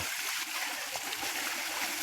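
Water splashes and rushes in a short, steady burst outdoors in a village paddy field setting, a close, fairly soft stream-like wash with a few sharper splatters.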